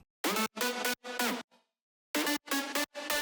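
A wide, detuned synth lead layer plays short, bright stabbed notes in a choppy rhythm with a brief gap midway, heard alone at moderate level.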